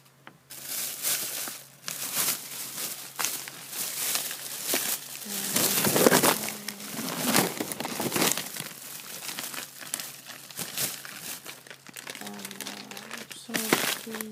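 Padded bubble mailer envelopes from a small Dollar General and Dollar Tree haul are handled and opened, giving steady close crinkling and rustling throughout, with a voice talking softly underneath.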